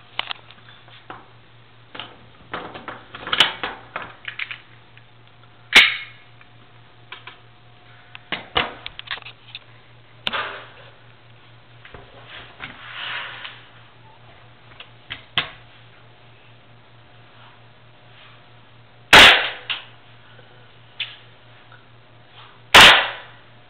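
A KWA Glock 19 airsoft pistol firing: a few sharp, separate snapping shots spaced seconds apart over a steady low hum and faint handling clicks, with a couple of louder cracks near the end.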